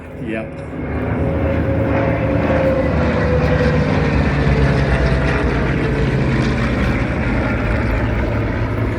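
A CAC Boomerang warbird flying in a formation flypast at an airshow gives a loud, sustained piston-propeller drone that swells in at the start and holds strong throughout, with voices faintly beneath it.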